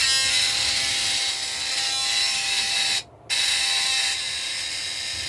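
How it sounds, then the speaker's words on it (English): A Sonicare electric toothbrush buzzes steadily and close up, a continuous high whine that cuts out briefly for a moment before resuming, with no voices over it. "my family uses this Sonicare toothbrush"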